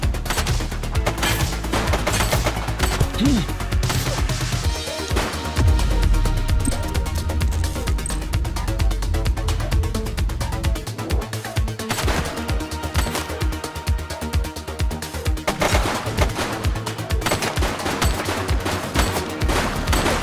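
Sustained gunfire in The Precinct, with dense volleys of rapid shots continuing for long stretches amid a busy, loud action soundscape.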